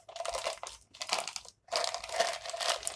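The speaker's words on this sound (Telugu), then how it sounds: "నేనైతే ఈ కవర్ తీసుకున్నాను, పాల కవర్. గ్లాస్లో పెట్టుకుంటున్నాము." A plastic milk packet crinkles as it is pushed into a glass, giving close, dry rustling in three bursts separated by brief pauses, with no talking.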